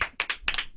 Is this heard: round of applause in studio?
yes